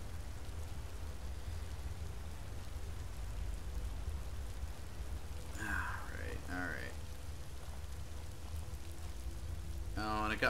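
Steady rain falls in Skyrim's Falskaar region, a constant soft hiss throughout, broken by a couple of short vocal grunts.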